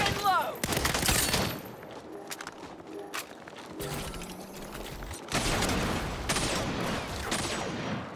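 Gunfire from a new gun in the video game Saints Row, loud bursts of rapid shots broken by mechanical clicks and brief pauses, with game sounds around them.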